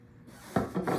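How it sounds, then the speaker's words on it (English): Spinach leaves dumped into a salad bowl on top of lettuce, giving two or three soft, close rustling thumps in quick succession. "So we've got our cup of spinach. Dump that in there with the lettuce."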